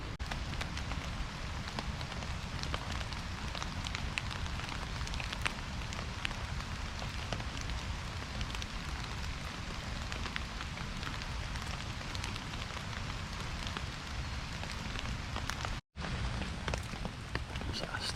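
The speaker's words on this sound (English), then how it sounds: "Still raining, folks." Steady rain patters on a campfire cooking site in the woods, a dense continuous hiss of drops on surfaces running evenly throughout with no voices, broken only by a split-second dropout near the end.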